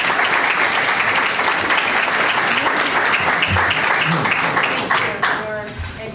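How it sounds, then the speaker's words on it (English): An audience at an executive recruiter panel at a business school breaks into sustained, loud clapping that continues steadily, thinning slightly near the end, with voices heard faintly beneath it. "Should we give them a round of applause?"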